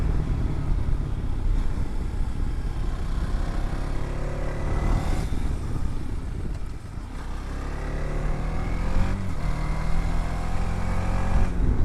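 A TVS Apache RTX 300 adventure motorcycle engine pulls steadily in fourth or fifth gear on a mountain road, a continuous close drone with rising revs and wind rush throughout.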